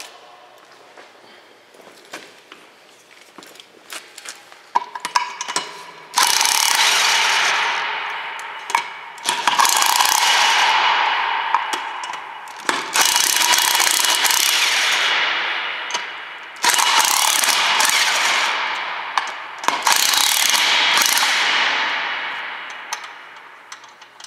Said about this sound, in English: I'm just loosening these nuts on the tire.